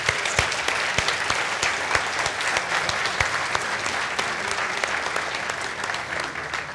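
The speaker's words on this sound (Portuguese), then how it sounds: "Então, uma salva de palmas para vocês também." An audience at a planning symposium applauds warmly, with sharp individual claps standing out over a steady crowd clatter that carries on for several seconds.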